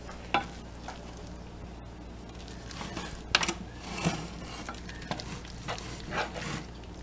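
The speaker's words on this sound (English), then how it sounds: "I'm trying to mix it into the spaghetti because it's hot" Butter being mixed into hot spaghetti in a pan, giving a low, soft sizzle with scattered stirring scrapes and clinks, fairly quiet and close, with no talking.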